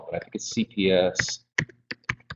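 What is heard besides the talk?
audience typing on computer keyboards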